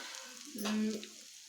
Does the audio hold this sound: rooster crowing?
no